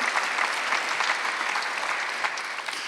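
A church congregation at a Korean Sunday worship service applauds, with dense, sustained clapping that stays loud and even throughout.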